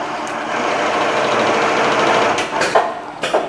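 An automated industrial sewing machine runs in a workshop, a steady whirring mechanical drone held for a few seconds before a few sharper clacks and pauses near the end.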